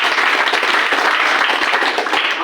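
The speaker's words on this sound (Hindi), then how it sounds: "सभी सर का एक बार जोरदार ताली" A seminar audience bursts into loud, continuous applause, dense overlapping clapping from a large crowd that stays steady for the whole stretch with no talk over it.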